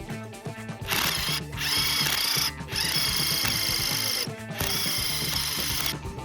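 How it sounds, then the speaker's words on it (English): Power drill boring out the ignition cover hole on an Eride Pro 3.0/SR electric scooter, a loud steady whine in several long bursts broken by short pauses. "Next, we have to drill out the ignition cover hole."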